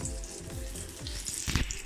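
Battered poornam balls fry in hot oil, giving a quiet, steady bubbling sizzle with soft watery crackles throughout and a small pop near the end.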